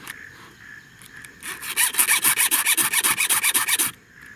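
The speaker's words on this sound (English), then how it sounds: "And you file the inside of the cutting tooth." A 4 mm round file rasps across the cutting teeth of a battery-powered mini chainsaw chain in about fifteen quick, even back-and-forth strokes, close and crisp, with no talking.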